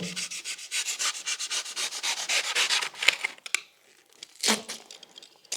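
Rhythmic rasping strokes saw through cured urethane insulation foam, close and scratchy, then stop, followed by a quiet pause and a final rough tearing stroke.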